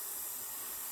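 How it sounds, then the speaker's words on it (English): A Battistella Vaporbaby semi-professional steam iron blasts out a continuous, fairly quiet hiss of steam, steady and unbroken for just under a second. "it really does pump out a lot of steam."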